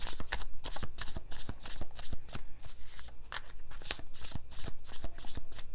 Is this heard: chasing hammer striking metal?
no